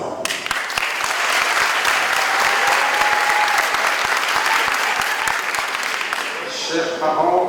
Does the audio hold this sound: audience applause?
yes